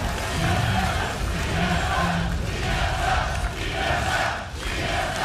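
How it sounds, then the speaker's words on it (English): A dense, loud crowd roars and cheers continuously at an esports arena during a 2014 League of Legends NA LCS match as a team destroys the enemy Nexus, with faint talk mixed underneath. "You can hear the crowd."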